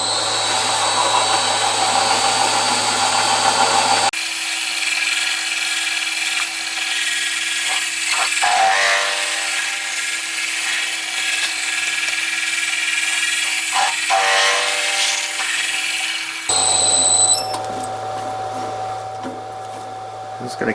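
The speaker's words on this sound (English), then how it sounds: "I'm going to drill a tapping size for a 5/16 by 40 model engineer thread" Drill cutting a tapping-size hole for a 5/16 by 40 model engineer thread, a steady whining machine drone lasting about twelve seconds, with someone talking before and after.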